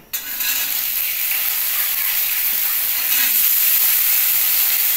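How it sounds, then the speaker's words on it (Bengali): Raw chickpeas dropped into hot oil in a home kitchen, a loud, dense sizzle that bursts in at once and holds steady, with no talking. "এবার তেলটা আমার গরম হয়ে গেছে, ছোলাটা এর মধ্যে দিয়ে নিলাম।"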